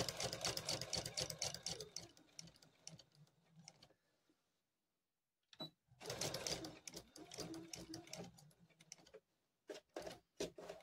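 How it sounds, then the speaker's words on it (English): A sewing machine stitching quilt binding with a back stitch, running in rapid rattling bursts that stop for a quiet pause and then resume in short spurts, fairly close. "So we'll go ahead and sew up to that 1/4 inch away from and then we'll do some back stitch"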